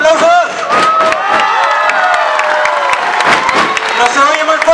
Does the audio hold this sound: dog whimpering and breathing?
no